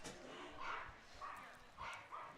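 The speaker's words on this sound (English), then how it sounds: "And now we got dogs barking at poor Ty Kennedy" Dogs bark faintly at a summer collegiate baseball game between the Lincoln Potters and Humboldt Crabs, aimed at a batter: a few short, distant yips over steady crowd murmur and indistinct voices.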